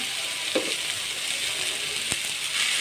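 Capsicum sautéing in a pan for a vegetable egg stir-fry gives a steady, soft hiss throughout, broken by a couple of sharp clicks of a spatula against the pan.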